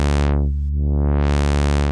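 A synthesizer tone run through a low-pass filter with no resonance, its cutoff sweeping down to dull the sound and then opening back up to bright, a loud steady sustained note heard alone.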